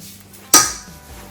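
A single sharp clink as a smoked Santa Maria style prime rib is set down onto a serving plate, ringing briefly then fading, with no talk.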